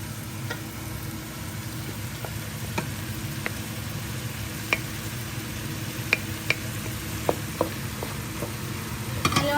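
Scrambled egg is stirred into softened vegetables in a pan for egg fried rice. A steady background sizzle runs under scattered sharp scrapes and clinks of the spatula against the pan.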